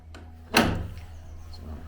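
The large door of the medieval church of St Margaret and St Remigius in Seething swings open with a single heavy clunk and a scraping creak that trails off, close by, with no talking over it.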